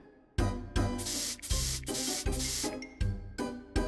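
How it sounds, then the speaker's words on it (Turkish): Repeated hissing blasts of an aerosol body spray, each burst long and loud, separated by brief pauses, with no talking. "Oh, vücut spreyi mi?"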